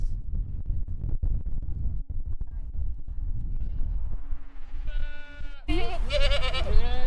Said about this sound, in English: I just got bullied by a herd of goats.